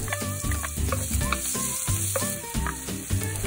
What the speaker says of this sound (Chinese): 首先先爆香干葱头同埋蒜